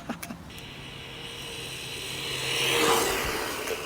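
Arrma Grom mini RC basher car whining past outdoors, a steady high electric motor buzz that swells as it nears and then fades, with a few light knocks at the start and no talking.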